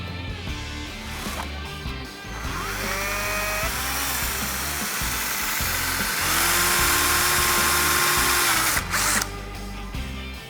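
A power drill whines and revs as it drives a screw into a roe deer taxidermy mount, the motor pitch rising and falling in sustained bursts, loud and close.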